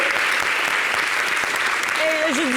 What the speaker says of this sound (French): Je voudrais qu'on l'applaudisse bien fort.